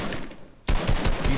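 Video game gunfire in a squad shooter match, a quiet lead-in giving way to a loud burst of rapid automatic shots firing close and hard.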